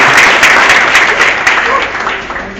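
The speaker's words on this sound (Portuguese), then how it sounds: "Mais aplausos, aplausos." Loud applause from a crowd fills a baptism ceremony, a thick burst of many hands clapping up close that stays strong, with voices mixed into the clapping.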